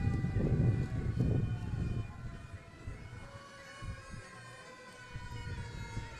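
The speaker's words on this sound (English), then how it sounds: "This is engine 2 of the Southwick Fire Department." Southwick Fire Department Engine 2's siren wails in a town parade for the Southwick 250 celebration, a sustained rising and falling tone at moderate distance, with a deep engine rumble in the first seconds.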